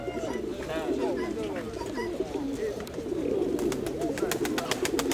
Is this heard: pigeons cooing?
yes